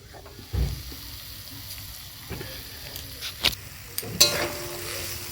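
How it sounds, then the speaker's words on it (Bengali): Eggplant frying in a pan: a low, steady sizzle with occasional sharp pops and spatula knocks against the pan, fairly faint and close, with no talk. "বেগুন ভেজে।"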